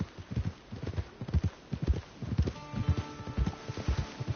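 Steady clip-clop of a horse's hooves walking along in a video game, close and rhythmic, with faint background tones and no one talking.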